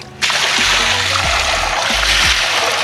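Water splashes onto a fossil rock during fossil hunting, a sudden loud wet burst followed by a sustained sloshing, trickling rush lasting a few seconds, close up.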